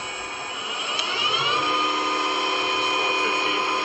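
Southwest Industries Trak 18 by 40 inch two-axis CNC/manual flat bed lathe with its spindle turning at 2,500 RPM, a loud steady high mechanical whine with layered tonal hum that holds constant, rising slightly early on.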